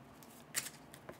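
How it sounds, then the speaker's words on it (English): A deck of cards from the Legendary Marvel deckbuilding game being shuffled by hand, heard as a few faint, brief riffling bursts in a quiet room. "let me just shuffle up my deck real quick"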